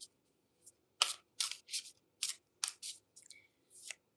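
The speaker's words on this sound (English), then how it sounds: "I've gotten so much better at like being able to shuffle very large cards." Large tarot cards being shuffled by hand, a series of crisp, close riffling bursts and soft slaps in an irregular rhythm with short pauses between, alone in a quiet room.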